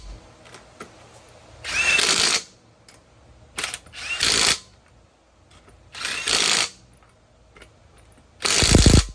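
Wheel lug nuts are run in with a power tool on a hub-centric wheel: four loud whirring bursts of a second or so each, separated by quieter pauses with small clicks.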